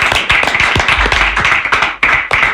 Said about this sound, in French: on doit applaudir, on doit vraiment applaudir.